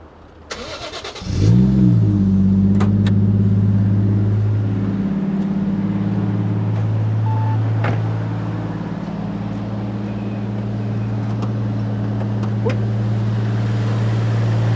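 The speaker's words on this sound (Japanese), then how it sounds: "じゃあエンジンかけてエンジンルーム見てみましょうか。" A Toyota Chaser JZX100 with Blitz air cleaner, radiator and intercooler cranks briefly, fires up with a loud rev, then settles into a steady, smooth idle that runs on evenly and close.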